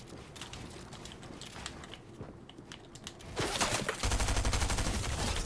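Rapid spray of automatic gunfire in Fortnite, the mechanical clatter building into a loud, dense burst near the end with no talking.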